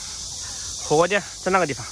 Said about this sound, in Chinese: 好多知了在叫。